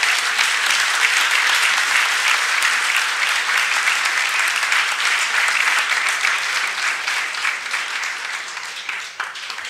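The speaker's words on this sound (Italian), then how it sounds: "vi chiedo solo un applauso per il professore architetto Paolo Portoghesi." An audience applauds warmly at a trade-fair conference, a dense sustained clapping that holds steady for several seconds and then gradually thins toward the end.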